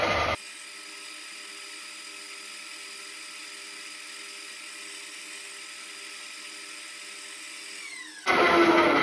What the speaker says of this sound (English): now I'm drilling the one in the rear